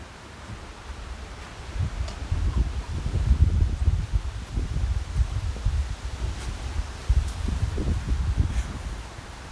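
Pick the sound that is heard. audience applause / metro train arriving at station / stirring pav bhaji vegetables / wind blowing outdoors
wind blowing outdoors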